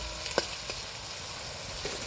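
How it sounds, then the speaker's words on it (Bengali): Onions frying in a pan for a rooster chicken curry, a steady low sizzle with a few sharp stirring clicks near the start. "দেখো, পেঁয়াজটা পুরো পারফেক্ট কালারে ভাজা হয়েছে"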